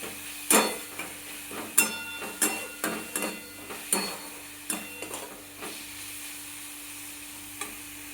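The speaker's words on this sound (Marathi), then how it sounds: "बघा आता इथं आपला कांदा भाजत आहे" Onion frying in a pan, a soft sizzle broken by a series of sharp clicks and scrapes as it is stirred, fading to a quiet hiss toward the end.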